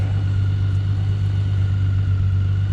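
Motorcycle being ridden, a steady low engine drone with constant wind rush, close and continuous at an even pace, no talking.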